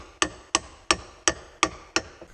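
Six light, evenly spaced metallic hammer taps on a part going into a Dodge Cummins transmission, each a sharp strike with a short ringing decay, close by and steady in rhythm.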